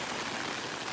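Steady rain falls in the Uinta Highlands, a dense, even hiss of drops close by with no pauses or voices.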